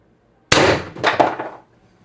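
X-68 airsoft rifle fired on 1100 psi HPA: one sharp, loud report with an abrupt onset, followed by a short clattering, ringing tail that dies away within about a second, then silence.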